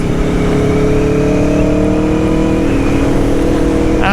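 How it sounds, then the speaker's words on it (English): An Aprilia Tuono 1100 Factory V4 motorcycle engine runs loud and close, a steady throaty drone with a rising rev toward the end and no talking. "It doesn't come across on camera at all how good this bike sounds"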